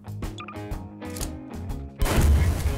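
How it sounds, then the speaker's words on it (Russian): A GBU bomb detonating in Garry's Mod: about two seconds of tonal game sounds, then a sudden loud, rumbling blast that holds to the end. "Мне нравится, как она взрывается."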